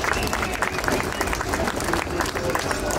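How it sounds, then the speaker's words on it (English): A crowd at an outdoor demonstration gives a round of applause, dense clapping and cheering mixed with voices and general crowd noise throughout. "give another round of applause"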